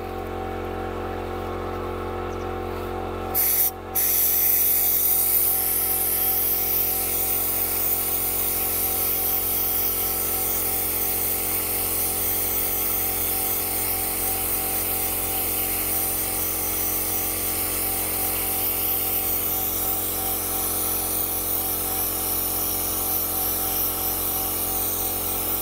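AliExpress sandblaster firing road sand at metal, a loud continuous hissing blast with steady air rush that starts abruptly after a few seconds and runs on without pause.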